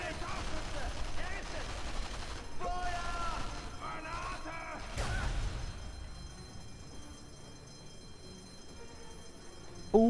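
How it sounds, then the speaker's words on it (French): A grenade explosion goes off during Sniper Elite V2 gameplay, a short burst of booming blasts and crackling game noise that fades into quieter ambience. Someone speaks over it. "je crois que la grenade a fait un gros paquet de dégâts"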